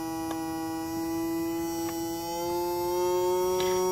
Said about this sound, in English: in the meantime, you can hear the motor speed up